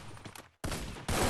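M10 gunfire in a shooting video game: a sudden dense burst of rapid shots after a brief gap, loud and close, continuing to the end.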